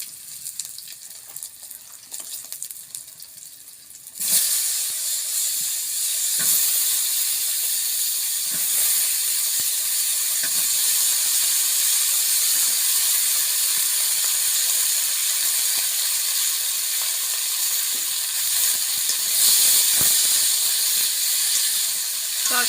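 Green chilies, cumin and mustard seeds sizzle loudly in hot oil in a pot on a clay stove for fish curry, bursting in after a quieter start into a dense, steady hiss with scattered pops.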